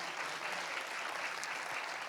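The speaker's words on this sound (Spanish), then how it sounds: "Aplauda al Espíritu Santo de Dios." Steady, dense applause from a church congregation during a service, continuous and fairly loud throughout with no break.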